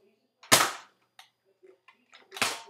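A Nerf blaster with a break-open barrel fires foam darts in two sharp, close pops about two seconds apart, with faint clicks and handling noises between them.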